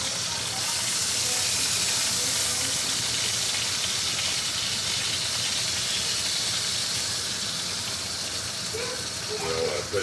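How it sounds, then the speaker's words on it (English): Beef shoulder searing in a hot pan on a grill, a continuous loud sizzling hiss that holds steady throughout. "Just searing it on all ends."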